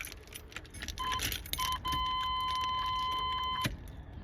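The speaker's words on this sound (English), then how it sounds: "Okay, or I'll just drop my keys on you." Keys jangle as they drop inside a 1989 Chevy Suburban, a brief metallic clatter followed by a steady electronic warning chime that pulses, then holds, before cutting off with another jingle.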